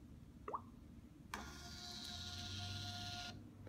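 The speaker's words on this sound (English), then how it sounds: "To print the readings, simply tap the icon." A small Bluetooth printer whirs steadily for about two seconds while printing EyeNetra readings, preceded by a couple of faint clicks and ending abruptly; quiet and close.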